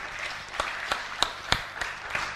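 Audience applause after a talk on suffering, a short, thin patter of claps with a few distinct sharp hits spaced about evenly, fairly quiet overall.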